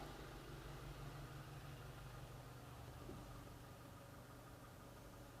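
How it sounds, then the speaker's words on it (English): A car's electric fuel pump runs after being switched on from a Hanatech scan tool, a faint, even mechanical hum and whir that holds steady without voices. "We've activated the fuel pump and we can hear it running"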